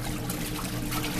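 Water sloshing and trickling steadily inside a Della portable 9 kg washing machine with built-in pump during its wash cycle, a continuous close churning wash with no talk.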